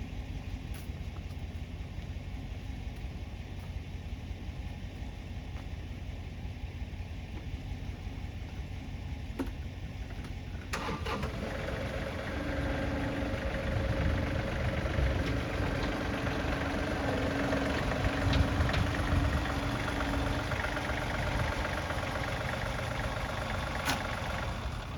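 A tractor engine runs steadily as it drives up onto a rollback car hauler trailer, idling at first, then rising to a louder, heavier drone about halfway through and holding there.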